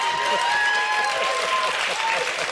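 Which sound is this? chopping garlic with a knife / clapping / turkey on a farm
clapping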